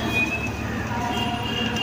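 A metro train runs through a newly opened station with a continuous rumble, a faint wheel squeal and rail clatter, close and steady throughout.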